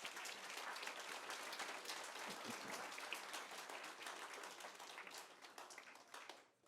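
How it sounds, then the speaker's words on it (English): Applause from a school audience at a sixth grade promotion ceremony honoring the American Legion, a dense wash of clapping that holds steady for several seconds before thinning out at the end; fairly faint and distant. "Give them a round of applause."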